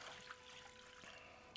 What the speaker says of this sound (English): I'll add my water, my 4 cups of water.